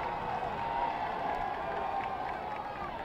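Steady crowd noise at a high school football game, a sustained roar of cheering from the stands with scattered clapping, even and moderately loud from start to finish.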